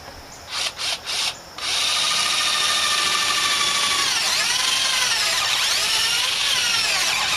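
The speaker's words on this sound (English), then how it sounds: "Now we got to drill 2 3/8-inch holes." Cordless power drill boring a 3/8-inch hole in rotted picnic table wood, with a few short trigger blips first and then a steady, loud, whining run whose pitch wavers as the bit bites.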